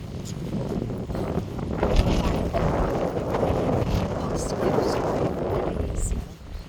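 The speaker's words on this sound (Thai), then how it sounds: "ใบไม้ร่วงเนาะก็จะเห็นใบไม้ร่วงเปล่า แล้วก็มีลมแรง" Strong wind gusting outdoors among falling leaves on an afternoon, a steady loud rushing roar buffeting the microphone throughout.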